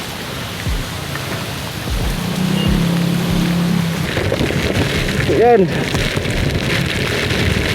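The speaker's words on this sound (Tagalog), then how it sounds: "Ayan, lakas ng ulan. Bagyong uwan, lakas ng ulan." Heavy rain during typhoon Uwan, a constant loud wash of rainfall over a vehicle on a daily ride, with a voice speaking briefly at the start and a few clunks and a squeak midway.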